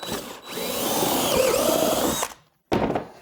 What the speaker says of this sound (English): That's just going to let me know if my jig moves while I'm drilling.